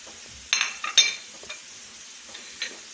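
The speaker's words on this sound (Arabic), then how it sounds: "بون ملي تتشحر البصلة تنديرو الشامبينيون، يتشحر تا هو" Onion and mushrooms frying in a pan, with a soft sizzle under a few sharp scrapes and clinks of a utensil stirring against the pan, close and intermittent with quiet gaps.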